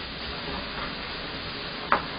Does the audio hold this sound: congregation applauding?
no